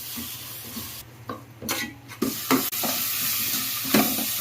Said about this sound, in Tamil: கட் பண்ணி வச்சுருந்த தக்காளியை போட்டுருவோம்